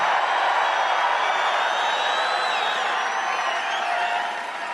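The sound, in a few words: rally crowd cheering and applauding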